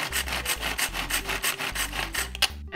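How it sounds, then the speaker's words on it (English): An onion is rubbed across a small hand grater in quick, even, rasping strokes, about a dozen close scrapes in a steady rhythm with no talking. "And I don't know if you've ever grated onion,"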